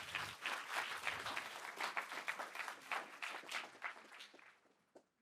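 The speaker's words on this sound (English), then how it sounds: "Round of applause for all of those folks," Audience applause at the 2024 McBaine Honors Moot Competition, a burst of fairly close clapping from a seated crowd that holds steady, then thins to a few scattered claps and fades out.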